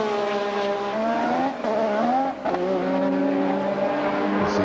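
A turbo-era Formula 1 race car running flat out at around 200 mph, its loud, high engine whine rising steadily through the gears with brief dips at the shifts, close and continuous.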